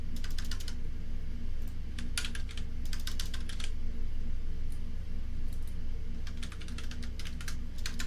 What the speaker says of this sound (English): Keyboard noises, I think.